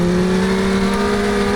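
A Legends race car engine drones steadily and loudly from inside the car while it runs through turns 3 and 4 on the track, with a constant low hum and no talking.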